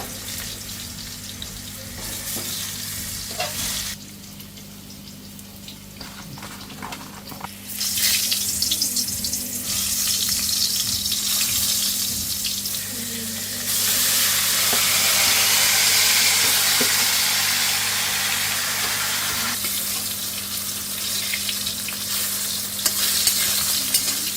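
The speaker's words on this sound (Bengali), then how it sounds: "এপাশে মাংসের আলুটা ভাজা হচ্ছে।" Potatoes for a meat dish fry in a pan with a steady, close hiss that swells loudly in stretches as they are stirred, over a faint low hum, with no talking.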